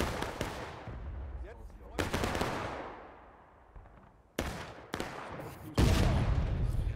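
Musket volleys crack out in the War of Rights battle on Piper Farm, several sharp shots at about 2, 4.4, 4.9 and 5.8 seconds, each with a long rolling echo, some close and loud, others scattered and more distant.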